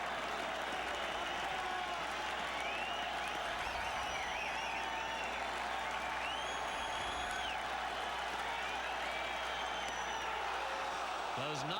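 A standing crowd at Fenway Park applauds and cheers through a baseball game, a continuous wash of clapping and whistles under a commentator's voice.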